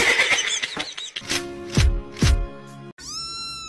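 A cat gives two loud, drawn-out meows close by, separate from the clutter around them, with a rising tonal cry at the very end.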